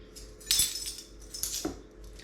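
Small metal measuring spoons clink and rattle against each other during banana bread baking, a few light, bright jingles spread over a couple of seconds, close and faint, with no talking.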